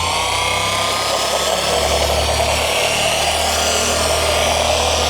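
A car body polisher runs at its lowest speed spreading polish over the bodywork, a loud steady motor whir and hum with a low drone, close by and continuous throughout without voices.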